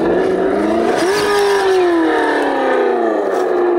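Motor of a Vaterra Ascender 4x4 RC crawler with Chevy Blazer body on a backyard trail course, a steady loud electric whine that rises in pitch, peaks, then slowly drops as it climbs and bounces over the line.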